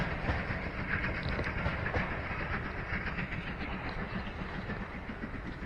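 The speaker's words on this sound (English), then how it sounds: "Can't beat a good old steam train." A steam train rolls past on the line during a countryside walk in Staffordshire, a steady loud rumble with clattering wheels and hiss holding evenly throughout, no voices.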